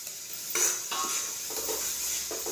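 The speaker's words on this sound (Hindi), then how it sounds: "आला आला लहसुन का पेस्ट डाल रहे हैं" Garlic paste sizzles in a hot pan in an Indian-style kitchen while a spoon stirs it in several brief scraping strokes, with a steady frying hiss underneath and no talk.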